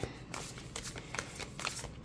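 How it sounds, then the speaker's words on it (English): A deck of tarot cards is side shuffled by the corners, giving soft quick riffling bursts and light card flutters, close and faint, with no talk. "it seems to be more doable if I shuffle the corners. Okay, side shuffling."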